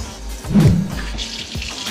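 Tap water runs into a kitchen sink while hands are washed before handling food, a steady close splashing stream that swells briefly midway through and continues alone.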